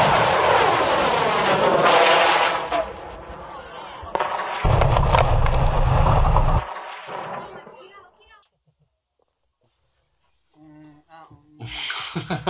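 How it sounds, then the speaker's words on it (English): A rocket launches in a game cutscene with a loud, broad roar that surges, drops to a quieter rumble, swells again, then fades into near silence before a final burst of noise. "he's going to launch himself in a rocket"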